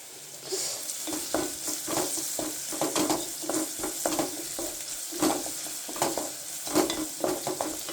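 Chicken sizzles as it fries in a pan, with steady stirring strokes scraping through it in an irregular rhythm, close and moderately loud, and nobody talking.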